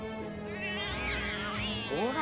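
Cats meow in the video game Final Fantasy VII Remake, a few close, rising and falling meows that overlap one another and run almost continuously.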